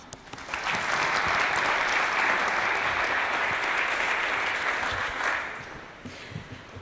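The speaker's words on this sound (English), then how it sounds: "can we please give a massive round of applause for going last especially" A live audience at a startup pitch event in Newcastle gives a big round of applause for the final pitcher, a broad, steady roar of clapping that swells quickly, holds for about five seconds, then fades to scattered claps.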